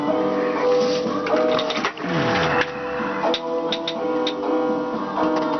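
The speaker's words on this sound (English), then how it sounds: "These are all high-speed rotary" A high-speed rotary tool runs with a continuous whining buzz that shifts in pitch and load as it works, with small clicks and knocks throughout.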